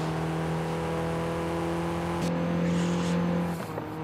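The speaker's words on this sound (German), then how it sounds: "der Motor zieht richtig gut durch" A 1974 Honda Civic RS with a 75 hp engine pulling steadily under acceleration, a droning in-cabin tone that rises and shifts pitch midway, then eases off near the end.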